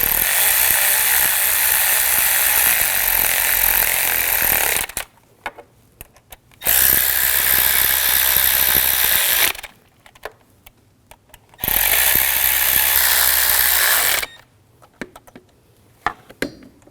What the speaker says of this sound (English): Now tighten down the bolts.